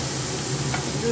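Okra (ladies finger) fries in a pan with chopped tomato, a dense, even sizzle heard close and alone for a brief moment.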